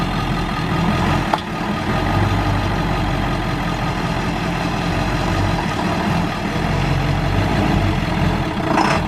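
A heavy truck engine, newly revived and not surging, runs steadily at idle, a deep continuous rumble with a brief clunk early on, heard close and without talk.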